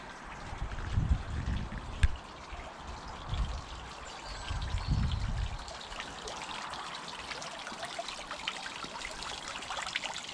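Water trickling steadily in a garden wildlife pond stocked with goldfish and fitted with a new combined pump, filter and UV unit, a continuous soft outdoor flow with some low rumbling.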